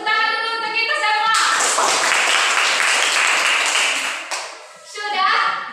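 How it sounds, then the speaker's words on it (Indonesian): A group of children claps hands together in a classroom, a dense burst of applause lasting several seconds, with a voice speaking briefly before and after. "Tepuk tangan dulu untuk kita semua."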